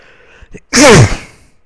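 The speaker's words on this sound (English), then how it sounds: "I just sneezed" A single loud, sharp sneeze bursts out close to the microphone after a brief quiet intake, heard alone with a faint background hum.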